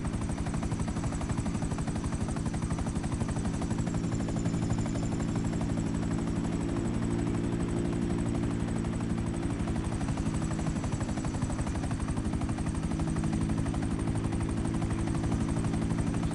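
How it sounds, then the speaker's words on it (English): Steady droning hum of an airplane in the video game GTA 5, a continuous even engine tone with a faint high whine running alone throughout, like an industrial fan. "This plane actually gives off a nice quiet humming sound that I like. Sounds like an industrial fan."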